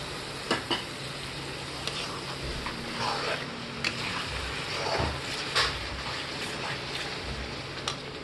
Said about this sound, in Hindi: और हमने 3 टमाटर की प्यूरी बना ली थी, उसको हम इसमें अभी मिक्स कर देंगे।